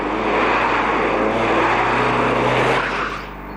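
A Seat Altea hatchback runs quickly through a cone obstacle course, its engine note loud and close as it sweeps past, with a faint tire squeal at the end before the sound drops away.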